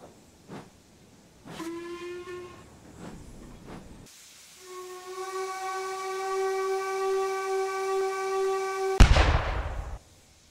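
A steam locomotive whistle gives two short toots, then one long sustained blast that cuts off in a burst of hissing steam, fairly loud and with no talking.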